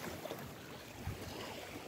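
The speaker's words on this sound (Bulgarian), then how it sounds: "Вълните не са много големи." Steady wash of Atlantic Ocean waves around a sailing boat with a reefed mainsail, with wind rushing over the microphone and no clear speech.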